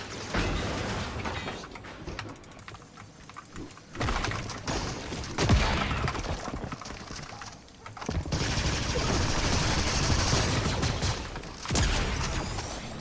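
Bursts of video game gunfire crackle through busy background game noise, with louder stretches of shooting coming and going, and no talking.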